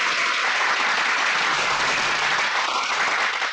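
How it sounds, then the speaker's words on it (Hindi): A crowd at a speech applauds loudly and continuously, a dense, steady wash of clapping that fills the whole stretch with no talk over it. "बजाओ ताली।"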